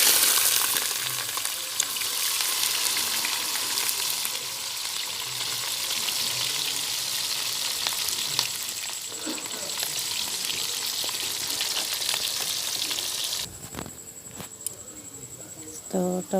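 Chopped onion hits hot oil for Bengali chicken kosha, frying with a continuous bright sizzle and occasional stirring clatter. Near the end a sharper, louder hiss and crackle rises, and faint sounds in the room sit beneath.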